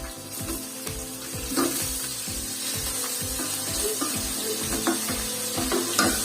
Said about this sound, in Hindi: चिकन को हमने 2 मिनट फ्राई कर लिया